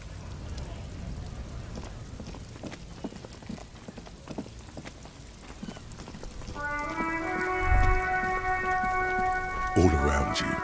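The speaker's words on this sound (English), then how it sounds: "Rain drips from the eaves and floods the gutters, washing the filth away." Steady rain falling over a city in the video game Disco Elysium, a constant hiss with scattered drips, joined near the end by a sustained tonal musical chord and a low thump.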